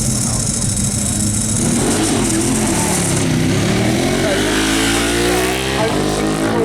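Ducati 1198 SP motorcycle at the Brighton Speed Trials, its engine revving and rising in pitch as it accelerates away on the run, with a commentator's voice over the engine noise.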